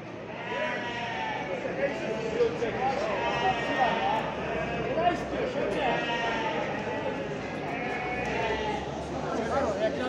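Many lambs bleat repeatedly, overlapping at a busy livestock market, while people talk nearby beneath the constant flock noise.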